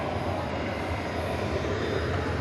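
An MD jet airliner rolls onto runway 17 right, its engines a loud, steady, broad roar that holds without a break throughout.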